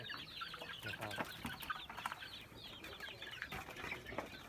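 Native chickens and young chicks on a small Thai farm cluck and peep in a busy, overlapping chorus, close by and continuous, with a few sharper calls and a brief flutter of wings.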